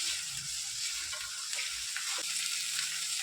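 Garlic paste sizzling steadily in a pan on lowered gas heat, a continuous bright frying hiss with small crackles, close and alone while cooking a prawn malai curry.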